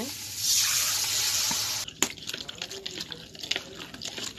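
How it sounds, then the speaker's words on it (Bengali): Leafy greens for a dried-fish curry being washed in water, a rushing pour of water into a vessel for about two seconds, then splashing, sloshing and clinks of handling, close and moderately quiet. "ভালো করে ধুয়ে নিলাম"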